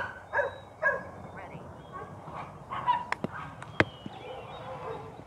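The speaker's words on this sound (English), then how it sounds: "Neighbors are home and their dogs are barking their heads off at them." Neighborhood dogs bark several times from a distance, in short sharp yaps heard over outdoor background noise.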